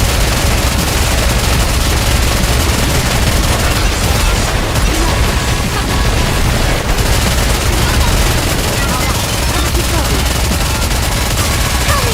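Sustained volley of gunfire in the Nikke summer event battle, loud and dense throughout with continuous overlapping shots and booms, no clear gaps.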